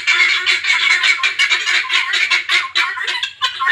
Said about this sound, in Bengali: চীনা মুরগি আপনারা এখানে দেখতেছেন প্রায় 11টার মতো আছে